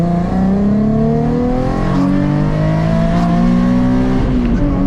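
Nissan 370Z Nismo, freshly retuned, pulling hard in second gear: a loud, close engine note climbing steadily in pitch as it revs up, with a brief shift-like dip near the end, no talking.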